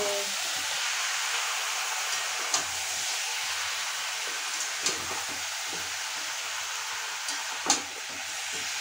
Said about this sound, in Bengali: চিকেন কষা হচ্ছে